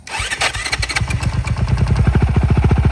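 A cheap dirt bike engine sputters into life roughly, coughing unevenly at first before settling into a fast, loud, rhythmic putter close by.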